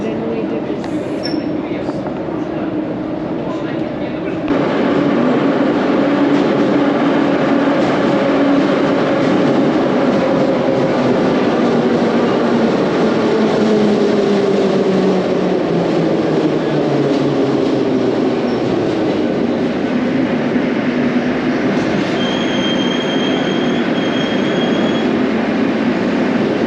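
A Moscow metro train on the green line roars through the tunnel, with a steady loud rumble, rising and falling motor whine and a faint squeal of wheels near the end.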